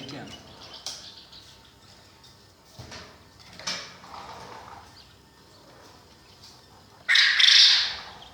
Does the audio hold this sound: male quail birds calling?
yes